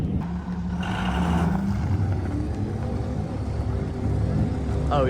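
A 12-valve truck engine runs steadily at close range with a constant low rumble, and people talk faintly over it.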